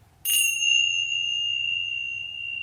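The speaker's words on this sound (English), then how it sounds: "I'm going to ring the bell." A single bell struck once, leaving a clear, bright ringing tone that sustains and slowly fades, with a faint low hum underneath.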